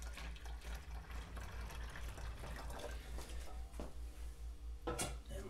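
Warm spring water poured into a fermenting container while making a blackberry guava mead, a steady splashing pour with a low hum beneath and a brief clatter near the end.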